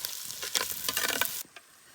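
Onions browning in a pan while egg curry is cooked, giving a close, steady sizzle with scraping stirs for over a second before the frying noise drops to a faint hiss.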